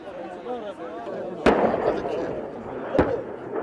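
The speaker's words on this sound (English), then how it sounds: "The noise of small arms and heavy weapons cuts through the sky." Gunfire from small arms and heavy weapons in an urban combat zone: two sharp, loud reports about a second and a half apart over a constant murmur of voices and distant rumble.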